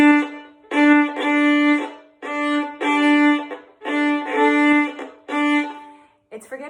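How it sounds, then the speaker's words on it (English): A bowed string instrument plays a series of repeated notes with a rough, scratchy edge, each stroke ending abruptly rather than ringing off. "sometimes we get a scratchy sound and we forget to release at the end of the note"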